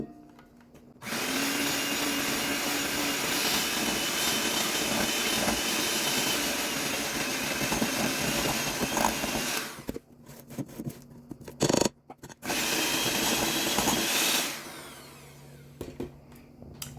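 Electric hand beaters run on low through cream cheese frosting with powdered sugar, a close, steady motor whir that starts suddenly, cuts out briefly with a few knocks near the middle, then whirs again before stopping. No voices.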